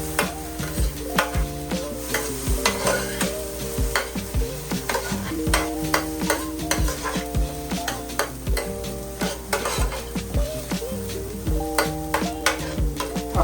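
Finely chopped vegetables cooking in a pan for stuffed chicken quesadillas, with continuous sizzling and frequent spatula taps and stirring clicks, close and steady, over faint background music.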